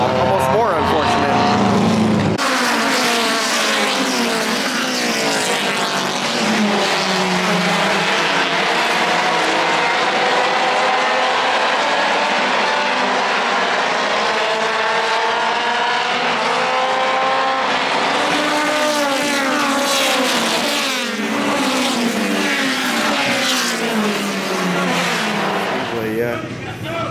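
Race cars roaring around a racetrack at the Freedom Factory, a dense sustained engine whine that swells and shifts pitch as cars pass close, with a voice talking over it.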